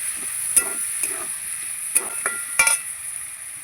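A paste of ginger, cumin, garlic and onion frying in a pan, with a soft steady sizzle and several sharp clinks of a spoon being stirred against the pan, close and fairly quiet.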